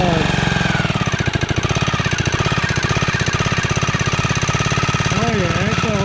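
Small engine of a REO Trikeabout running on a chilly day, a fast, even, loud putter close by, with a voice briefly over it near the end.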